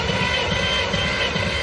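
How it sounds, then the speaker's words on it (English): An Oliver 77 tractor engine cranks over at wide open throttle with the ignition off during a cylinder compression test, giving a steady, loud mechanical drone with a rhythmic low thumping pulse throughout. "we're gonna do a compression test on the Oliver 77"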